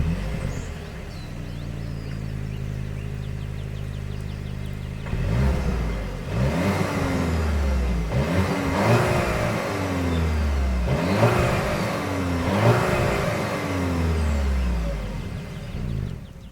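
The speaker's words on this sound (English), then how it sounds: "As always, here is that exhaust clip." A 2025 Volkswagen Atlas idles with a low steady hum, then its exhaust is revved in four or five rising blips that swell and fall back, heard close and clear with no talking.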